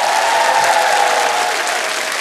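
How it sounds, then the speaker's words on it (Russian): A studio audience at a comedy TV show breaks into dense, continuous applause that is loud and steady throughout, with no talking heard. "Аплодисменты еще раз вам."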